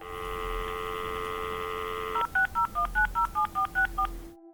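A telephone keypad sends a quick series of about nine distinct DTMF dialing beeps, loud and close, following a steady held tone, with no talking.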